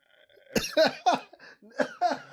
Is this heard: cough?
yes